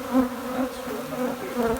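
A swarm of honeybees flies into a hive, a dense buzzing hum that wavers in pitch as many insects pass close by, steady and moderately loud with no talk.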